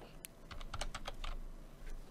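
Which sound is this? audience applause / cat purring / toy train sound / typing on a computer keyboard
typing on a computer keyboard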